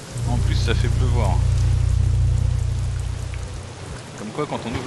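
Steady rain in the video game Syberia II pours down with a dense hiss, alongside a low droning rumble that tapers off toward the end.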